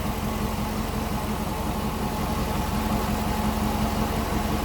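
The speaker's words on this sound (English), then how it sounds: "Cool sounding car too. Nice little rumble." A 2004 Chevrolet Corvette C5 coupe engine idles with a steady low rumble, constant and close, with no other sounds.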